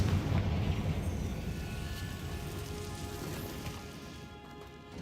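Confringo spell blast in Hogwarts Legacy, a loud rumbling explosion at the start that decays into a long crackling, debris-like wash, fading gradually over several seconds.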